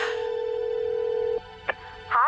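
Ringback tone on an outgoing phone call to Beth: one steady, fairly loud tone holds for over a second, then cuts off, followed by a brief click and the start of a recorded voice.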